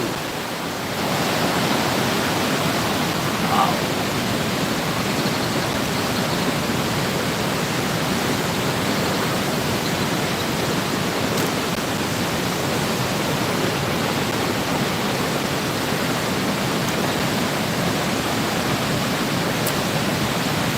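A constant, heavy roar of falling water at Niagara Falls fills the scene, steady and loud throughout with no voices.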